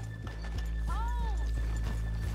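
Horses in the Red Dead Redemption 2 game world: a clear whinny rises and falls near the middle, over a steady run of soft clip-clop hoofbeats with a constant low hum beneath.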